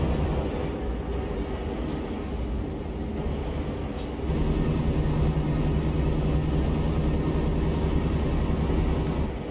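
A train passes close by in Euro Truck Simulator 2, a steady loud rumble with a sustained high whine and brake-like hiss joining midway, with no talk over it.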